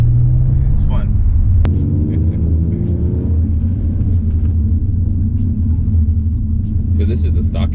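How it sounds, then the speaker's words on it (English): Stock exhaust on a six-speed Infiniti G35 coupe, heard from inside during a ride: a steady, close, low rumble that swells briefly near the start and then settles into an even drone. "So this is the stock exhaust?"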